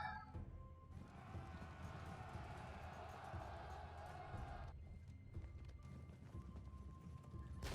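Galloping cavalry in the video game Total War: Shogun 2, a dense rumble of many hooves pounding continuously with a faint crowd-like battle wash behind, heard at moderate distance without clear talk.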